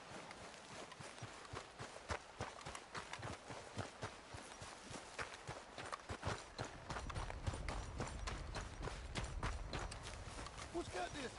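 Horse hooves clip-clop at a walking pace in Red Dead Redemption 2, a steady run of fairly close hoof falls that ends under a rising low rumble.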